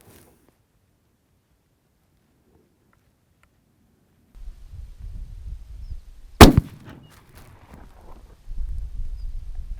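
A single sharp rifle shot cracks at a shooting range during hunting practice, loud and close, with low rumbling wind or handling noise before and after it.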